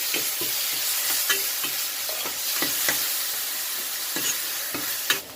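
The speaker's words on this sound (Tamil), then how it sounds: "அதையும் சேர்த்துட்டு ஒரு வாட்டி நல்லா வதக்கிட்டேன்" Chopped tomatoes with ginger-garlic paste sautéing in a pan, a continuous loud sizzle broken by repeated scraping stirs of a spoon.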